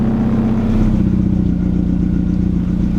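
A 1990s car engine with a faulty wire, revving high right after starting, loud and close, holding a steady raised drone with a rough pulsing throb throughout.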